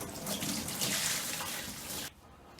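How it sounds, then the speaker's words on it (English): Used radiator coolant drained from a Mini John Cooper Works poured into another bucket, a steady close splashing liquid stream for about two seconds that stops abruptly. "So we'll just pour it into this other bucket"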